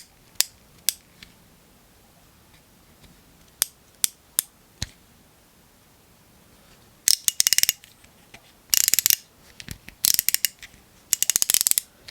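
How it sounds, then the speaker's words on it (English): The brake knob on a KastKing Al-Ti Elite baitcasting reel clicks close up. Single sharp ticks come first, then several quick bursts of rapid ratcheting clicks as the knob is turned. "here's the brake control knob."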